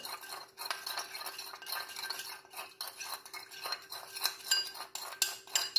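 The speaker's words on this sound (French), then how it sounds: "Voilà, le mélange est déjà fait. C'est autour du sel gemme, du kanwan. Je le remue là, bien." A utensil stirs a rock salt (kanwa) mixture in a quick run of soft scrapes and small clinks against the container, quiet and close, without talking.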